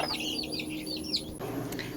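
Farm chickens cluck and chirp nearby in short overlapping calls over a low steady background hum, with no talking.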